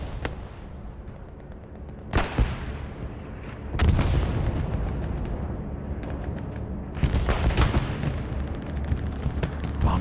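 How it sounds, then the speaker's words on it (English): A bombing run in Hell Let Loose on the Hill 400 map, with heavy booming explosions and rumbling blasts landing in waves, mixed with distant gunfire. "Bombing run coming in."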